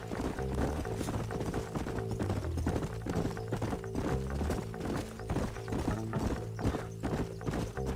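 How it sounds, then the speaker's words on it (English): Horses' hooves clip-clopping in Red Dead Redemption, a steady rhythmic gallop of several hoofbeats, close and continuous, with no speech. "Let's hold up a minute and find a spot for our horses."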